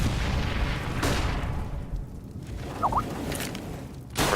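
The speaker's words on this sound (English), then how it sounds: "Grenade out. Flashbang." A flashbang grenade goes off in a Counter-Strike match on de_train: sharp, booming bursts, one around the first second and another at the very end, over steady gameplay noise.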